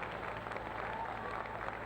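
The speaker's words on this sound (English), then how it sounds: "Give them a huge round of applause." A crowd at the Danone Nations Cup 2017 youth football ceremony applauds the South Birmingham Primary Schools FA runners-up, a faint, continuous wash of clapping heard from a distance.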